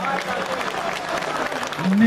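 A brief burst of audience applause for a singer at a folk and opera song show in Valcea, dense and steady clapping lasting about two seconds.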